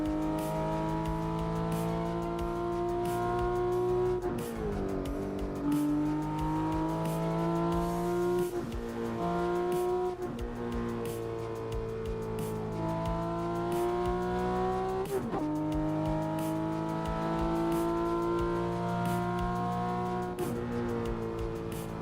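Volvo S60R 2005 in a racing simulator game, engine droning loudly and steadily with repeated rev rises and drops at gear shifts, plus occasional tire noise, continuous throughout with no talk.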